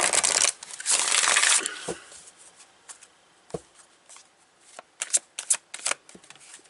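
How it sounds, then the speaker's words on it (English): Tarot cards being reshuffled by hand: a close riffle burst opens, then softer sliding and scattered crisp card taps and flicks, alone. "So let me reshuffle."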